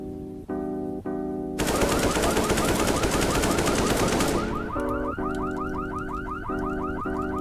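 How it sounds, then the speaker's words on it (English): Hypercars are blown up in the video game Anomic: a loud blaring car-alarm tone pattern gives way to a dense, sustained burst of rapid explosive blasts, then the pulsing alarm returns alongside fading crackle. "Now switch to your alt account and blow up all the hypercars."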